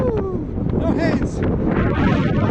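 Wind blowing hard against a cyclist riding a bike outdoors, a loud buffeting rush across the microphone under a voice speaking.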